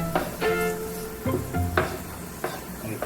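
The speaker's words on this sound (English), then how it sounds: "now we got a sizzle on the onions" Onions sizzle in a hot pan with a steady frying hiss, broken by a few clanking stirs of a utensil against the pan.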